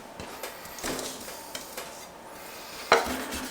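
Cooked Brussels sprouts being mashed flat in a pan, soft squashing and scraping with a few light clinks and one sharper metallic knock near the end, close and fairly quiet.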